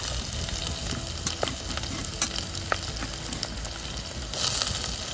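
Onion frying in a pan over a wood-fired stove for prawn masala, a loud, dense continuous sizzle with scattered stirring clicks and a brief hiss swelling near the end, no talk.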